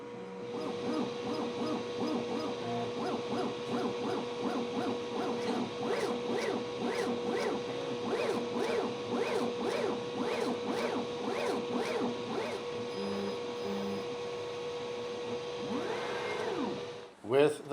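XTOOL M2 laser machine running a calibration burn, with a rapid regular pulsing whir and a steady tone throughout, ending in a brief mechanical clunk.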